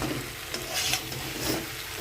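Chicken 65 fries in a pan and is stirred, making a steady close sizzle with scraping swells of stirring and no voices.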